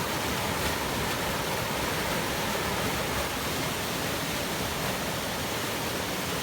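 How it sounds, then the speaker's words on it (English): Steady, loud roaring rush from a flash flood debris flow surging down Hermosa Creek in Colorado off a wildfire burn scar, a dense unbroken wall of water noise with no talk. "you can see a big flash flood debris flow coming off the 416 burn scar here"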